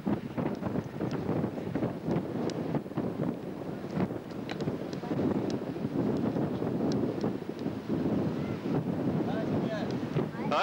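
A boat speeds along at full throttle, its motor masked by steady roaring wind buffeting the microphone, with choppy water and brief voices in between.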